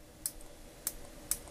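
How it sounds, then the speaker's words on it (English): A mechanical pencil clicks three times in a slow, even rhythm. Each click is crisp and short over a quiet background. "Listen to the click."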